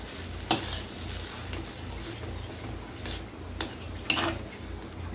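Potato bhaji with coriander stirred in a pan, soft scraping and faint sizzling throughout, with a few sharp clinks of the spoon against the pan.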